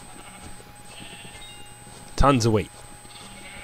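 Sheep in Minecraft bleat in a short, loud burst of a second or so during a mass wheat-feeding session on a farm, right after a voice speaks.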